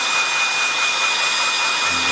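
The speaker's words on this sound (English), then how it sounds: "Right, hair dryer." A hair dryer blows with a steady, loud, airy whir that holds constant throughout, with no talking.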